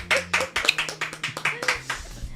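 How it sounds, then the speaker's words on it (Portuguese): Applause greets a guest professor and pastor: a small group claps in a quick, uneven burst of sharp hand claps, heard close and fairly loud. "Cadê as palmas para ele?"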